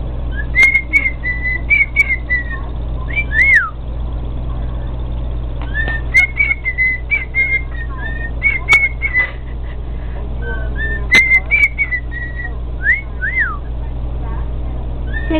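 A pet bird whistles a repeated melodic phrase in bright, clear bursts, pausing between runs, over a steady low hum in the room.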